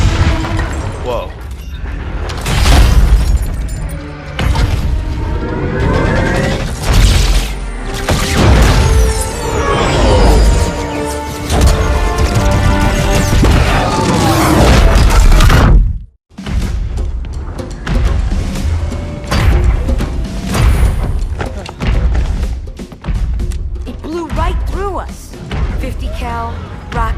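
Rocket blasts and explosions boom through a Halo Anniversary video game cutscene, loud rumbling bursts layered with battle noise and music, with voices talking over them and a brief silent gap midway.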